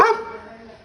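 A single short dog bark, loud and close, that trails off quickly into quiet.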